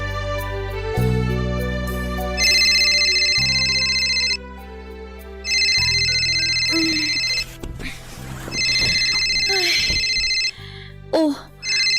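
A telephone ringing in repeated bursts, loud and near, over a steady musical background, with a voice murmuring in between rings.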